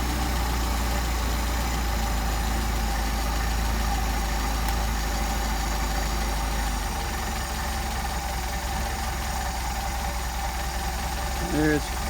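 A Mercedes 190SL engine on Solex carburetors idles steadily and low, a continuous close rumble whose pitch drops partway through as the idle slows further.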